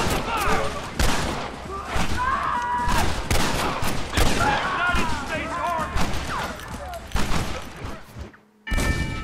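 Gunfire in a Red Dead Redemption shootout, a rapid run of loud overlapping shots and impacts, with shouting voices mixed in, cutting out briefly near the end.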